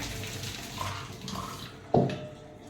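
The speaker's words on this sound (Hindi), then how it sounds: "अब हम इसको बंद करके इसको छान लेंगे, सारा पानी इसमें से निकाल देंगे" Water from boiled jackfruit pours and trickles through a strainer in a home kitchen, a gentle running splash that ends in a brief louder slosh.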